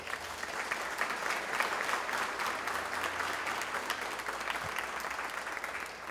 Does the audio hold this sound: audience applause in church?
yes